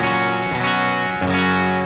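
A bass guitar plays through a Roland Jazz Chorus amp impulse response, sustained distorted notes with a chorus shimmer, changing pitch a couple of times, loud and alone.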